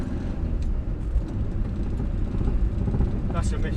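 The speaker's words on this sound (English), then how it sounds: "that's a misfire" A 1962 Morris Minor's engine rumbles low and uneven while the car drives around the block, a continuous close drone with a misfire.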